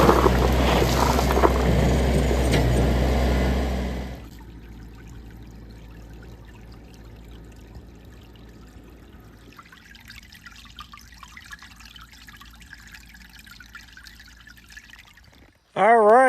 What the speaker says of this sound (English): we've got to dump gravel right on the center, on the top